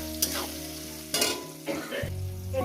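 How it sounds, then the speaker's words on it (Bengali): Onions frying in oil for a mutton curry crackle and sizzle close up, with a few scraping stirs of a spatula and a low hum in the background, with no speech. "পেঁয়াজটাকে একটু আগে এখানে ভেজে নেবো।"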